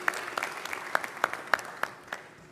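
A short burst of applause in a solemn council session, scattered sharp claps from a small group in a reverberant chamber, fairly faint and quickly fading.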